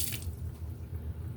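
Hot tap water runs into a sink while dishes are washed, a steady close splashing flow with a brighter gush at the start and no talking.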